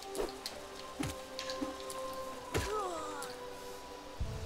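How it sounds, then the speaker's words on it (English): Steady rain patters in Hollow Knight beneath soft musical game tones, with scattered brighter drops and knocks landing close by at irregular moments. "Do you think the rain is actually God's tears?"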